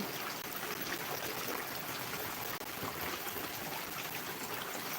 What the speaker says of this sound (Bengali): বৃষ্টি হচ্ছে অনেক পর্যাপ্ত পরিমাণ